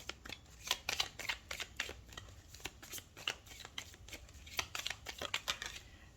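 Oracle cards shuffled by hand in a steady run of quick, crisp riffling bursts, close and fairly quiet, with no voice over them.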